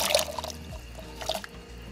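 Potatoes dropped into a pot of boiling water for a spicy Mexican beef soup, giving a few quick splashes and liquid sloshing over a low steady bubbling, close and fairly quiet, with no talking.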